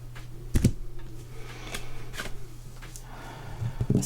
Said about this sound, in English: go ahead and cut the deck